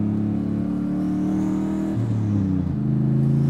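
A single-turbo 1999 Ford Mustang GT street car revs loudly up close, its engine note climbing and dropping in pitch as the throttle is worked, with no talking.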